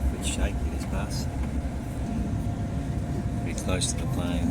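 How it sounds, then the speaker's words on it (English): Airport shuttle bus driving near the planes at Hong Kong airport, a shaky ride with a low steady engine and road rumble heard from inside, with people talking over it. "A bit shaky, this bus."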